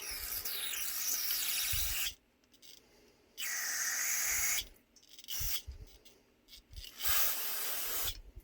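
Carburetor cleaner sprayed onto a disassembled Carter BBD carburetor from an '86 Dodge Ramcharger, several long hissing bursts of aerosol close up, separated by short quiet gaps.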